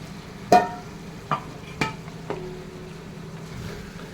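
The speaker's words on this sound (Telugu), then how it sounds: "మంచిగా కలిపేసుకోండి. చుక్కకూర మొత్తం కూడా చికెన్కి పట్టేలాగా" Chicken is stirred together with chukkakura greens in a pan, with a few distinct scraping strokes of the spoon over a low steady cooking hiss.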